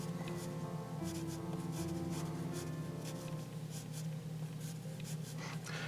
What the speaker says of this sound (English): for the legs we're going to draw two little rectangles